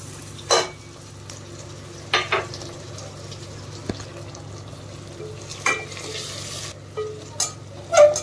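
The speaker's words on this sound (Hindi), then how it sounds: "अब इसमें ये मैं कटे हुए टमाटर डाल दूँगी।" Chopped tomatoes frying in a pan for lauki kofta curry, a soft low sizzle punctuated by several distinct stirring knocks and scrapes of a spoon, close by and without talk.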